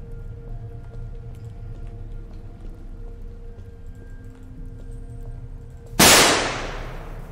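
A single loud gunshot sound effect cracks out sharply near the end with a decaying tail, over a low steady background hum.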